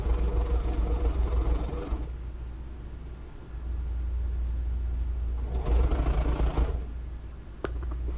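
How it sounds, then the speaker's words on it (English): A sewing machine runs a quarter-inch seam in two bursts of fast, steady stitching separated by a short quiet pause, close and clear, with a faint click near the end and no voices. "So I'm just sewing my 1/4 of an inch seam there."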